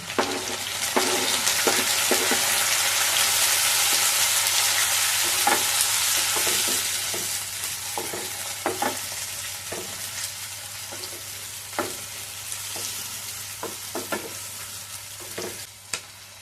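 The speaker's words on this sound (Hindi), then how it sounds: "भुन गए हैं प्याज, रख रही हूँ मैं ये टमाटर और हरी मिर्च।" Tomatoes and green chilies go into a pan of browned onions, raising a loud hiss of frying that eases into a steady sizzle, broken by repeated sharp clicks and scrapes of stirring.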